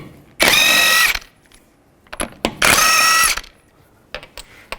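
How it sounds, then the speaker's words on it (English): A ratchet fitted with a 21mm socket works the wheel nuts off a Nissan Xterra in two long, loud, close, buzzing bursts, with clinks and knocks of the socket and tool between them. "Take a 21mm socket, remove the wheel."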